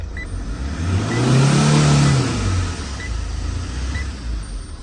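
A Tata diesel truck with a check-engine fault revs once, the close engine note climbing and falling over about two seconds, then settling back to a steady idle.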